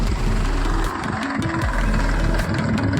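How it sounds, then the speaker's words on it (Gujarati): A tractor engine runs steadily in a field during wheat sowing, giving a continuous low, throbbing idle-like rumble with a brief dip in the middle, and no talk. "ટ્રેક્ટર"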